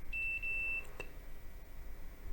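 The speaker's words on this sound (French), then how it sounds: "Vous avez entendu le multimètre biper" A multimeter testing a drone flight controller gives a clear high-pitched electronic beep lasting under a second, followed by a faint click, in an otherwise quiet room.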